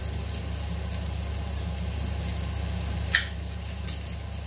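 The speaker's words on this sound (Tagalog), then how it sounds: "Kapag luto na ang ating onions, ilagay po natin ang ating corned beef." Corned beef fries with onions in a pan, a steady low sizzle with a faint hum underneath and two small clicks near the end, no talking.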